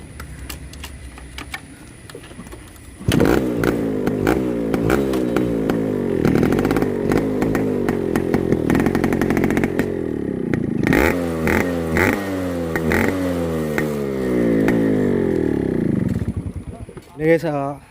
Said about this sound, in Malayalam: നമുക്ക് വേണമെങ്കിൽ ഇതിൻ്റെ സൗണ്ട് ടെസ്റ്റും കാര്യങ്ങളൊക്കെ നടത്താം.